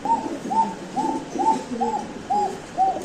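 Light-coloured silver Lahori pigeons cooing, a regular series of about seven soft, rounded coos in steady rhythm, close and clear with a quiet background.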